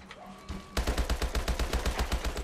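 Rapid automatic gunfire in the Call of Duty Advanced Warfare Exo Zombies game, kicking in abruptly after a quiet moment as a steady, loud stream of closely spaced shots.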